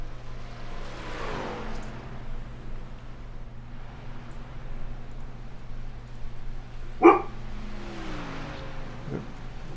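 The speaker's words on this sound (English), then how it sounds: "My dog Irie says hello" A dog gives a short bark or two partway through, close by, over a steady low hum and faint background noise.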